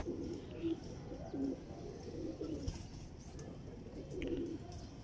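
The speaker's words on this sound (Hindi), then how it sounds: "जेन्युइन टेडी कबूतर," Teddy pigeons coo in low, rolling bursts, several birds overlapping at close range over a steady background hum with occasional faint chirps.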